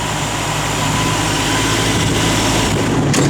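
A 1966 Ford Mustang V8 running, a steady loud broadband rumble with a deep low drone, close and continuous with no voices.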